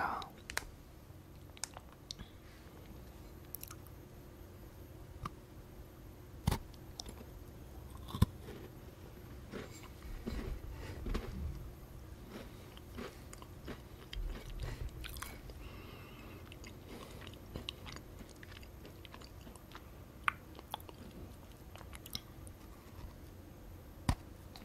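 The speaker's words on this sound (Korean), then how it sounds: "핑크 색깔 먹어볼게요." A pink Evichu cookie is bitten and chewed up close, with soft crunches and wet mastication clicks repeating irregularly over a steady low background.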